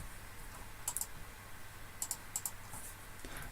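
Numbers are typed on a computer keyboard in a few quick clusters of light, close clicking keystrokes against a quiet background.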